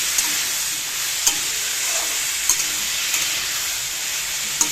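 Vegetables with green chilli stir-frying in a pan, a steady close sizzle and hiss with occasional light clicks of stirring.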